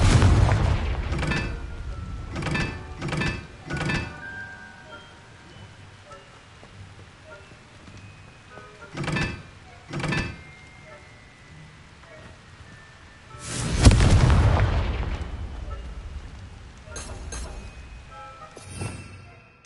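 Fiery Confringo spell blasts in Hogwarts Legacy, a series of sharp booming explosions spaced irregularly, with a larger roaring burst near the end, set against quiet ambient game sound.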